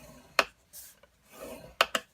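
A tool scores cardboard for an advent calendar book box in a few short, close rasping strokes, with sharp scraping bursts separated by brief quiet gaps.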